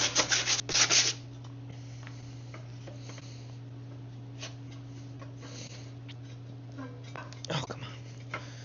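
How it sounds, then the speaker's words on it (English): Sandpaper rubbing rust off a snow blower part gives a few loud, brisk scrubbing strokes at the start, then quieter intermittent scratches over a steady background hum, close up, with no talk. "So I just grabbed this piece of sandpaper I found. I'm just going to take this and I'm just going to rub all this off."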